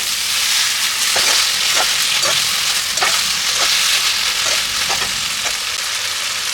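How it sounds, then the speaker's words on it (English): Sauce is folded into vegetables frying in a wok for egg hakka noodles, making a steady, loud sizzle with a few soft stirring scrapes and no talking. "And I'll just fold it into my vegetables."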